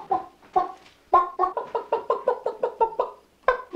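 A hen clucks up close in a quick run of about a dozen rhythmic, throaty notes, with a few scattered clucks before and after, loud and clear with no talking.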